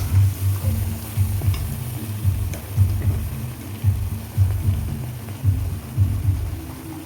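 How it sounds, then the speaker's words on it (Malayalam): A pan of beef pickle with asafoetida being stirred, giving a soft continuous sizzle with regular scraping strokes about every second, close and alone. "കായം ഇട്ടതിന് ശേഷം നമ്മൾ നല്ലപോലെ ഒന്ന് ഇളക്കിയെടുക്കുന്നുണ്ട്."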